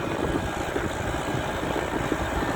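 Homemade tractor assembled from mixed parts, its engine idling with a steady low rumble and continuous vibration, close and unbroken with no talk over it.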